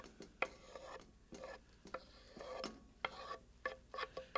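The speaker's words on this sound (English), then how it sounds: "And then in goes the spinach." Fresh spinach tumbling into a pan in Julia Child's kitchen, with a run of soft rustling, scraping and stirring clatters, close and moderately loud, shuffling irregularly throughout.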